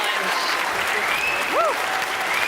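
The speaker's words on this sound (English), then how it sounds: "Please join me in one last round of applause for our winners, our finalists, and every venture who participated in this year's challenge." Applause from a university innovation challenge audience celebrating its winners: dense, steady clapping throughout, with a brief cheer or whoop rising over it partway through.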